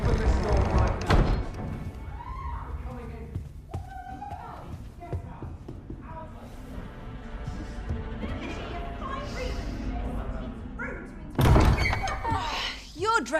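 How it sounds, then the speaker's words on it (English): A heavy door slams shut in the Dragon's Dogma 2 video game, a loud thud near the start and another late burst, with in-game character voices and background music running between them. "Open this door right now."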